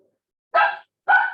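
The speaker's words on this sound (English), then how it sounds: "excuse my dogs." Two short, sharp barks from dogs indoors, a clear pair of separate yelps close to the microphone with silence between them.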